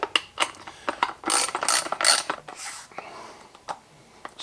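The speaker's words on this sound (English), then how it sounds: "grab your ratchet" A hand ratchet snugs down a nylock nut while a Benelli-style inertia-driven shotgun is reassembled after deep cleaning, giving close, crisp clicking bursts in irregular strokes with brief pauses between.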